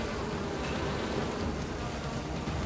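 A swarm of giant honeybees drones steadily around a wild nest high in a treetop in Cambodia, a dense, continuous buzzing hum close by with no talk.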